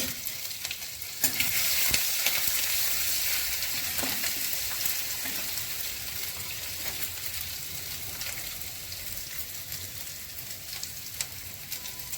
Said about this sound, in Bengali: তেজপাতা দিয়ে দিলাম, গ্রেট করা আদা দিলাম